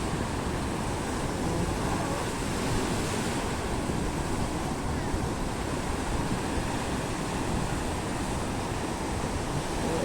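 Ocean waves surging against the rocky shore at Cape D'Aguilar, a steady, dense roar of surf with wind noise, continuous and loud throughout.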